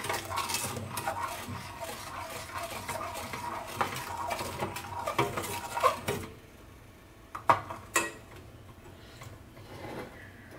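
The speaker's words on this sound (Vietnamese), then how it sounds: "Tắt lửa mình còn cái độ nóng mình quậy." A spoon scrapes and knocks inside a cooking pot of Vietnamese baked honeycomb cake batter after the heat is turned off, busy rhythmic stirring that thins out into a few separate clanks, no talking.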